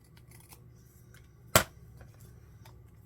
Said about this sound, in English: I don't think I want this big airmail tag like that. We're going to cut it down.